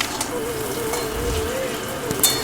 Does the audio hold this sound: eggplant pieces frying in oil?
yes